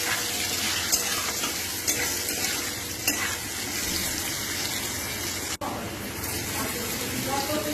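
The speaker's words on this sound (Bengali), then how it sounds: "আলুগুলো বেশ ভাজা ভাজা হয়ে এলে এর মধ্যে দিয়ে দেবো কাঁচা কলার খোসাগুলো" Potatoes and boiled green banana peels fry together in a pan, giving a constant close sizzle with a spatula scraping and tapping against the metal at regular intervals. A brief dropout sounds near the end.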